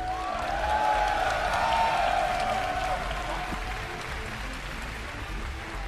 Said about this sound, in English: Extra special congratulations to Bomber and huge round of applause for Rob Simpson.